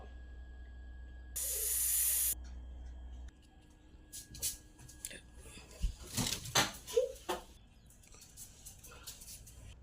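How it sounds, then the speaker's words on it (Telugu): A spray can gives a single steady hiss lasting about a second, followed by quieter rustling and handling noises, with soft talk underneath. "ఈ స్ప్రే కొడితే"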